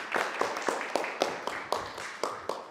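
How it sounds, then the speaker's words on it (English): A conference audience at an in-person tech event gives a round of applause, about ten fairly evenly spaced claps at moderate distance, without voices. "give a round of applause to Dave, our next speaker."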